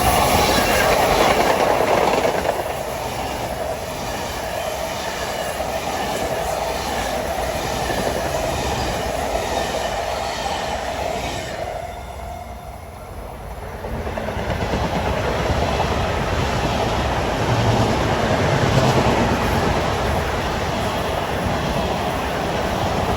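LIRR M9 commuter train rolling westbound through Forest Hills at rush hour, a sustained rumble with wheel clatter and track noise, dipping briefly midway before building again.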